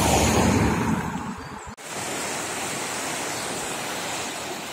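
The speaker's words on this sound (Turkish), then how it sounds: "Tam böyle derenin içinde burası." Mountain stream rushing between rocks in a Black Sea valley near Uzungöl, Trabzon, a dense, continuous broadband roar of flowing water, close and steady, with a brief dip from a handling bump partway through.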